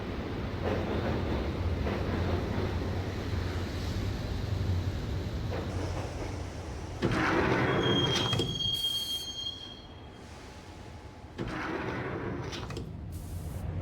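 A subway train ride in the video game Max Payne: a steady loud rumble of wheels on rails, then a sharp high metallic wheel squeal partway through, with the noise dipping and returning as the train moves.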